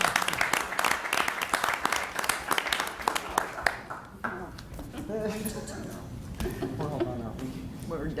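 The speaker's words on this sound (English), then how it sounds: "Round of applause." Applause rises from the audience at a village board meeting, dense clapping for about four seconds before fading into scattered claps and voices talking.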